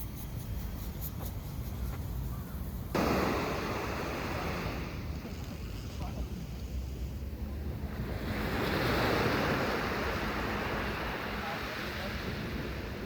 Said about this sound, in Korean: 파도 소리 들으니까 좋습니까?